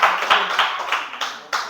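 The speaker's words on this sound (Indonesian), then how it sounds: "tepuk tangan untuk kita semua ya" A few claps in a math classroom, several broadband bursts at irregular intervals over quiet room tone, with a faint voice briefly present.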